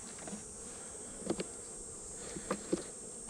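Honey bees buzz in an open hive during a honey super inspection, a steady, close, high-pitched drone with a few brief soft knocks and handling taps over it.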